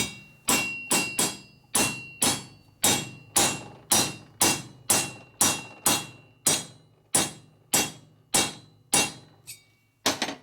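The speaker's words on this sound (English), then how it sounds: "You can actually beat it with a real hammer" A hammer strikes a valve guide in a 2005 Harley-Davidson Sportster XL 1200 cylinder head in a steady series of sharp, ringing blows, about two per second, each decaying quickly, with no talk.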